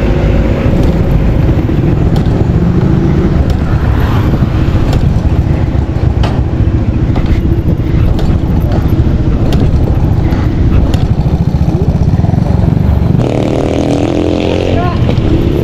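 A steady, loud motorcycle engine rumble runs throughout with a faint voice, ending in a slight change in engine tone near the close as the motorcycle breaks down.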